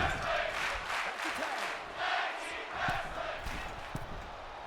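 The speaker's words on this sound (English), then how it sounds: "The crowd here in the North Charleston Coliseum going absolutely crazy for this tag team match, chanting tag team wrestling" Wrestling crowd in the North Charleston Coliseum during a tag team match, a dense roar of cheering with rhythmic chant-like swells pulsing steadily throughout, loud and continuous.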